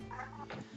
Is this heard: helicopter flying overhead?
no